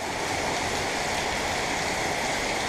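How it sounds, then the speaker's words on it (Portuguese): Floodwater rushes out from under a Gol car, a loud, steady, close wash of flowing water with no pauses and no voices. "Olha o gol saindo um monte de água por baixo do carro."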